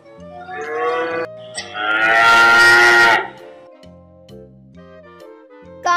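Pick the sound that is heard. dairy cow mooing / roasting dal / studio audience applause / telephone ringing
dairy cow mooing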